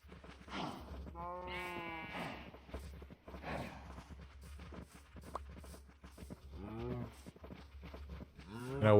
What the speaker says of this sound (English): Hello, cow sheep.